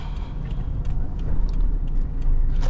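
Isuzu Hi-Lander pickup's engine running steadily through a turn, a low continuous drone with road rumble heard from inside the cab, faint clicks above, no talking.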